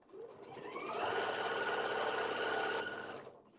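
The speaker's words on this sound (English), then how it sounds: "we're going to sew 2 layers of cork material" A sewing machine stitches through two layers of cork material, a close, steady mechanical whir that runs evenly for about three seconds before stopping, with no talking.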